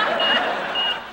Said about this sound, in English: Somebody must pull the fire alarm.